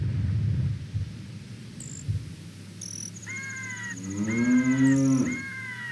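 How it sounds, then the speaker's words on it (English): Cows moo in Zelda: Ocarina of Time 3D, a few drawn-out tonal moos rising and falling near the end over soft ambient game sound, with a couple of short chime-like tones earlier. "why am I still hearing mooing?"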